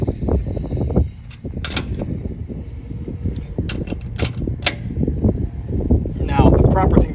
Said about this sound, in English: I'm going to go ahead and take my actual wrench.